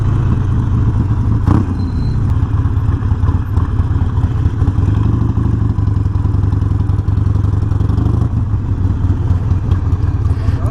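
A Harley-Davidson Nightster 48 motorcycle engine runs steadily nearby with a low, throbbing idle and a few clattering knocks over roughly ten seconds.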